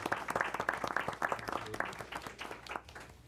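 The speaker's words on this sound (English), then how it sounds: "Let's give one more round of applause to all the student DSAC." Applause from the audience at a school board meeting, a modest room of people clapping in quick, fairly faint bursts that thin out over a few seconds.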